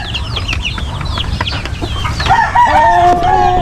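A Black Australorp rooster in a backyard farm crows loudly and close by, a drawn-out call rising midway, with clucking and scratchy fowl noises around it before the crow.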